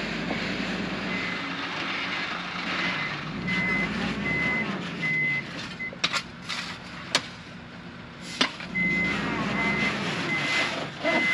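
Trucks reversing on a campsite in Ecuador, steady engine rumble with a high reversing alarm beeping intermittently, plus several sharp clanks and knocks partway through.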